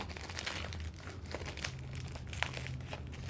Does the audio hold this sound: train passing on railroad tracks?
no